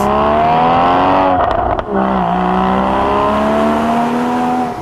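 Porsche engine climbing uphill through hairpins in first gear on a slippery road, revving loud and steady with a brief dip and quick shift, no voices.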